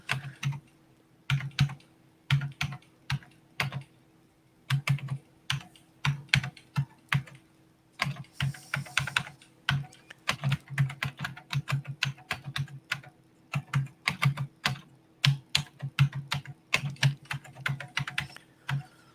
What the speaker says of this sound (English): using a keyboard that's all the way back from the 90s